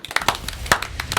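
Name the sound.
audience applauding the elders who pass on knowledge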